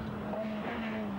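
A Ford Sierra rally car on the Manx National Rally 1991 revs steadily while working off a verge back onto the road, its engine note droning at moderate distance with slight pitch shifts.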